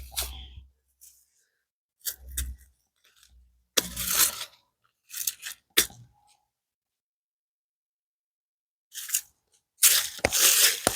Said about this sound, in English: I'm going to cut this back